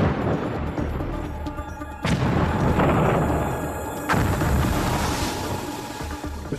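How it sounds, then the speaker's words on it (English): Two heavy, deep WWII depth charge explosions burst out a couple of seconds apart over a dense rumbling roar, loud and close. "Depth charges were the most common anti-submarine weapon."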